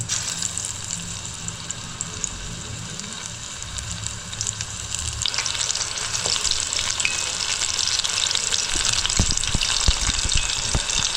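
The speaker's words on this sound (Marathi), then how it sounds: "तेल तापलं ना की मीडियम गॅसवरतीच कोणती मच्छी फ्राय करायची" Croaker (dhoma) fish frying in hot oil over medium heat, a steady close sizzle that grows louder and brighter partway through, with a few soft clicks toward the end and no voices.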